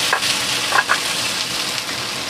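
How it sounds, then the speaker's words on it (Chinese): Onions stir-fry in a wok with pork fat over medium-high heat, giving a steady bright sizzle with a few scraping stirs, close and continuous with no talk. "咁我哋就將啲洋葱就炒咗佢先"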